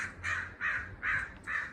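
A bird in the Minecraft video game gives four evenly spaced harsh caws, fairly close and moderately loud, with no talking over them.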